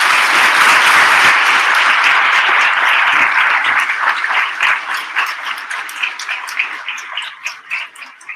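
An audience applauding the welcome of guest Barry Barish, the Nobel physics laureate, at a live event: loud, dense clapping that thins into scattered, fading claps over about eight seconds.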